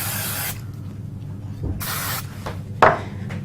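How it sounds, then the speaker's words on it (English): Spray glue is misted in several short hissing bursts onto the back of a die-cut greeting card panel during card making, a loud close spray, a pause, a longer spray, then a brief final puff. "Use a little bit of spray glue on the back."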